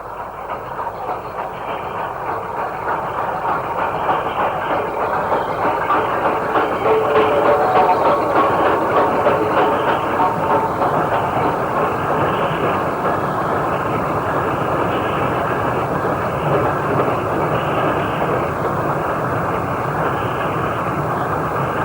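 Steam locomotive 48062 drifts past Farrington Curve Junction on the West Coast Main Line, a sustained rumble of the train and rolling wagons swelling as it nears, then holding steady as it passes.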